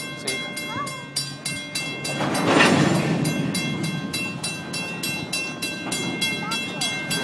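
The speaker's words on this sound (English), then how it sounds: "It's stopping. The train is stopping." A Union Pacific train slows to a stop, its cars clicking past in a regular rhythm of wheel beats with a brief louder rush of noise partway through, heard from nearby while people talk quietly.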